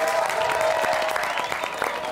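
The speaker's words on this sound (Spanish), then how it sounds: "Un aplauso." A TV studio audience applauding, brisk and lively clapping that stays loud across the whole moment, with a faint murmur beneath.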